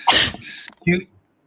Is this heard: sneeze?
yes